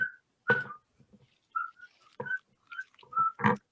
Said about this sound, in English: there's a bunch of other beholders all in the background that from which this whistling is emanating